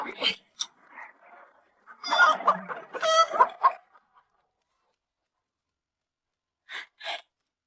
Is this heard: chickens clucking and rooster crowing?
yes